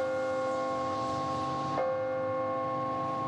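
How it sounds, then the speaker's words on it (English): Church bells played through loudspeakers at Arlington Church in Akron ring out as a steady, sustained chime that hums continuously at moderate volume without any talking. "It's not surprising to hear the sound of bells at a church."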